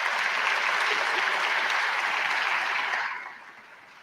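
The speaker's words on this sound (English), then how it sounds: "Ladies and gentlemen, please another round of applause" Sustained applause from a crowd at a closing session, dense and steady, fading out toward the end.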